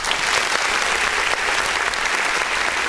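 Canned applause effect triggered from a clap button on a music review show, a dense, loud, continuous crowd clapping that runs steadily for a few seconds with no voices.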